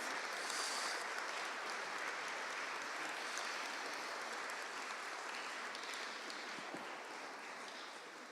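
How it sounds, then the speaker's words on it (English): Sustained audience applause at a Peace and Unity 2017 award presentation, a dense steady clapping from a crowd that holds evenly for the whole stretch with no talking over it. "If we can have a round of applause, please, for Sister Isabel Smith"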